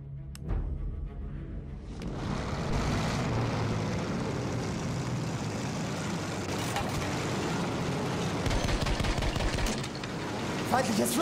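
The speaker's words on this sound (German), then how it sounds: "Danke, jetzt Flugzeug!" Propeller fighter plane passing overhead in Battlefield 1 conquest, a sustained droning engine roar with gunfire crackling nearby and voices talking throughout.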